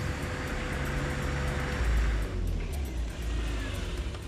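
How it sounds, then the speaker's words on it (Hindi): A car draws closer on a road, a rising engine hum and low rumble that swells midway, with faint background noise and no clear talk. "लगता है गाड़ी आ रही है"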